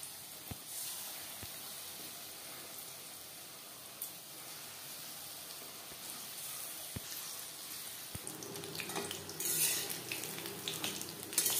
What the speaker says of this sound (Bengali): পাকোড়াগুলো ভাজবো মিডিয়াম ফ্লেমে